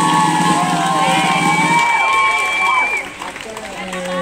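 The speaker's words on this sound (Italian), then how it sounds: "un applauso ancora alla band per piacere" Crowd cheering and applauding for a band at a music night in Bologna, loud and dense with whoops and shouts, tapering off after a few seconds as a voice starts up.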